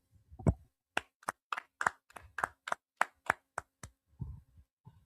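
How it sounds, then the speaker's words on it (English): About a dozen sharp, separate claps ring out at a steady pace in a quiet room at an Israelite school gathering, each one crisp and close, with a few softer claps trailing off at the end. "Let's clap it up."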